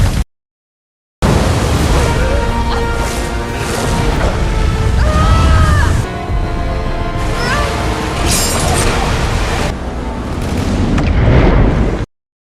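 Loud, roaring river current and waterfall in a film, a dense continuous rush of churning water with crashing surges and a brief dip midway, preceded by a moment of silence.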